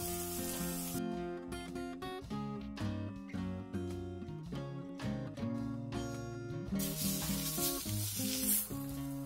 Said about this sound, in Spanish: En una sartén bien caliente doramos el pollo por todas partes.